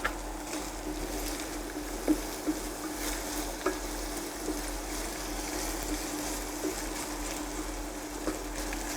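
Chopped spring onion fries in a pan that has nearly cooked dry, making a steady, even sizzle with a few faint clicks of utensils.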